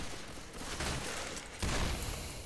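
Gunfire in a zombie shooter video game: bursts of shots in steady succession, loudest in the latter half, with no talk over them.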